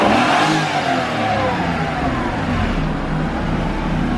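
A Honda NSX engine, started on a fresh battery after sitting a long while, revs loud and close, a rising roar that settles into a rough, steady idle, no talk.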